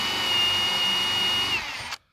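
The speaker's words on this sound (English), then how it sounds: "If you're drilling a decent sized hole, make sure you pull it out every once in a while" A power drill bores a hole into wood for a fence latch, giving a loud steady high whine up close for almost two seconds before stopping abruptly.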